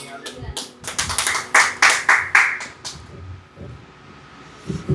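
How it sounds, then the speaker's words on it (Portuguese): A church congregation clapping during a worship service, rhythmic bursts of handclaps that swell over a couple of seconds and then fade, with a voice speaking nearby. "Você pode aplaudir ao Senhor?"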